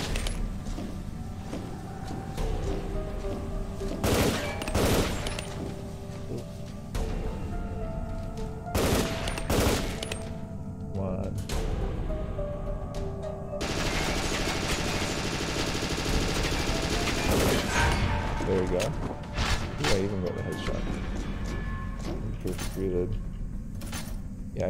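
Gunfire in the video game M.A.R.S., repeated sharp shots and rapid bursts scattered through a busy battle soundscape with metallic clanks, with a voice speaking at times.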